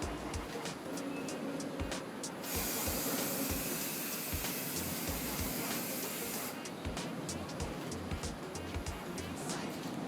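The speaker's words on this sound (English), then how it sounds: "I'm gonna have to spray it in this orientation instead" Spray paint can hissing in long continuous bursts onto a Nerf blaster during a fade-effect paint job, a steady broadband spray between shorter puffs, fairly close and loud.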